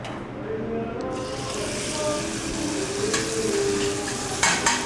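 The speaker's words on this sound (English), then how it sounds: "So I can put the chicken in the frying pan." Chicken sizzles steadily in a frying pan, a close continuous hiss with occasional utensil scrapes and clinks while people talk over it.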